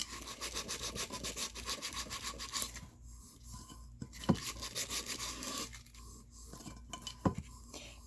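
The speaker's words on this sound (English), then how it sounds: "You're just sanding wherever it doesn't feel smooth or where it's a little rough to the touch" Close, quiet rhythmic rubbing and scraping strokes of sandpaper worked back and forth over cured epoxy on a glitter tumbler, with short pauses between bursts.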